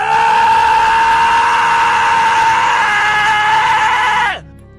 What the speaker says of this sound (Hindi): उस बूढ़े आदमी ने विपुल के मुंह पर जोर से एक चीख मारी